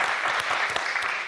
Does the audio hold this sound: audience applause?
yes